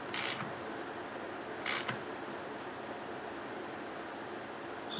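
A bolt on a motorcycle rim bead lock is tightened in two short, crisp bursts of metallic ratcheting clicks, spaced over a second apart against a quiet, hissy background.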